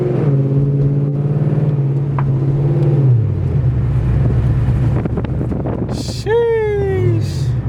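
Cabin of a 2004 Pontiac GTO on the road, with a steady low engine drone and wind rush throughout and a brief rising engine note toward the end.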